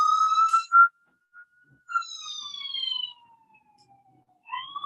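Police car siren passing outside, a wailing tone that sweeps up and then glides slowly down, with short yelping bursts at the start and a fresh rise at the end, fairly clear and without talk.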